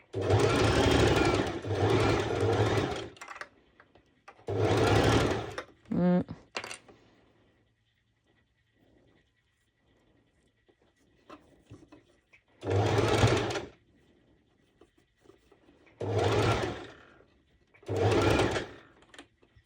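Sewing machine running a zigzag stitch on fabric for shorts, several loud bursts of a few seconds each separated by pauses, close by, with a brief mechanical clatter in between.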